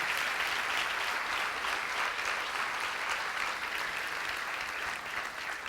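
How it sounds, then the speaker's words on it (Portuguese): A church congregation claps steadily through the whole stretch, a dense, even wash of applause with no voices over it. "Pode aplaudir."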